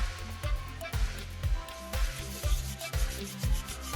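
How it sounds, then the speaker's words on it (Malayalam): A rusty 15-year-old iron appam pan being scrubbed clean after soaking in water, with loud, close, rhythmic scrubbing strokes repeating about twice a second. "നമുക്കിതൊന്നും കൂടി നമുക്ക് തേച്ച് കഴുകിയെടുക്കാം"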